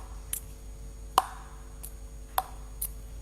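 Crisp, hollow ticks of a table tennis bat striking the ball with flat contact, several evenly spaced hits in a quiet room, with faint lighter taps between them.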